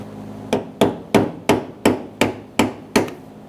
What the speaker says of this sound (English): I'm gonna use some brass punches so that you don't spark as you hammer this ring out